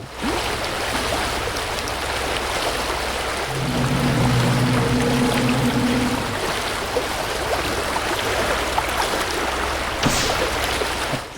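Flowing water in a video game, a steady, full rushing wash that continues without a break for the whole stretch, with a brief tonal hum partway through and no speech.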